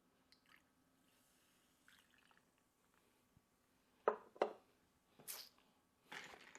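Club soda poured over ice in a glass for a sake mojito, a short fizzy splash with a few clinking bursts, close and fairly quiet with no talk.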